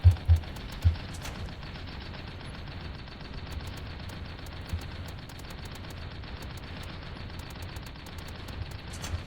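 Vulcan rotary machine gun turret on a tank in Tanki Online fires a sustained stream of rapid shots, steady and fairly loud, after a few heavier thuds at the start.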